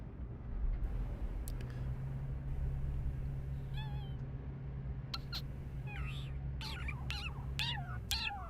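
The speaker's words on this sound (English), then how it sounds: "Well, it sounds like a cat, that though. That sounds horrible. The cat's being murdered." Cat-like alien creature cries in the No Man's Sky video game, a series of wavering, yowling meows growing more frequent and strained, over a steady droning game ambience with a low hum.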